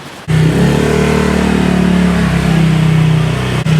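A booked motorbike taxi's engine in Bangkok idles and revs loudly and close by, a steady mid-pitched drone starting abruptly and holding throughout with no talk.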